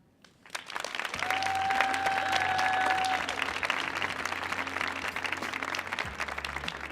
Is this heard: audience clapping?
yes